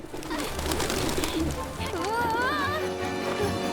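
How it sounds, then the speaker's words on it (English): Pigeons coo in the video game Final Fantasy VII Remake, soft warbling calls rising over a steady background of game ambience and a clip-clop of hooves, with a voice talking over it. "I think it's weird that they have regular Earth pigeons here."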